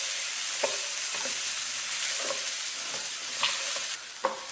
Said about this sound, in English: we're going to just stir this in and continue to let the rice cook